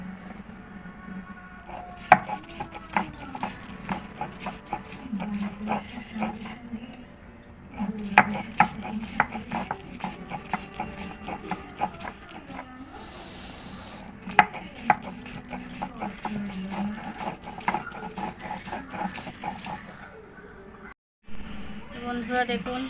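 Lentils ground by hand on a traditional shil nora grinding stone, a steady run of scraping, rolling strokes in repeated bursts with short pauses, fairly close and moderately loud throughout.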